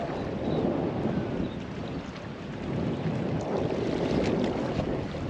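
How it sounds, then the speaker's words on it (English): Steady wind gusts buffet and roar around a boat riding at anchor on a sunny day. The sound is a continuous broadband rush that swells and eases, with no voices. "Tell the wind's blowing pretty good,"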